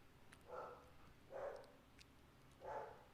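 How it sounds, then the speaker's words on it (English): Dogs barking somewhere off in the distance at an off-road trail site: three faint, evenly spaced muffled barks roughly a second apart over low background hiss. "The dogs are barking."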